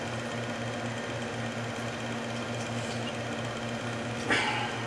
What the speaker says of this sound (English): Here's the booster pump right here.